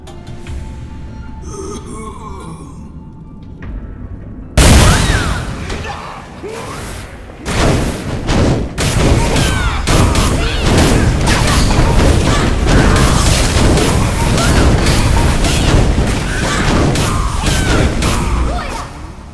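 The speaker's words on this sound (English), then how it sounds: "I heard an explosion." An explosion goes off in the video game Blade & Soul. A sudden loud blast breaks a quieter ambience and gives way to a sustained, heavy roar with crashing debris.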